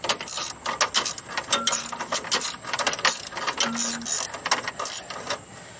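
Up close, a hand tool with a split socket ratchets a VW clutch cable adjuster tight, giving quick runs of crisp metallic clicks with short pauses between strokes.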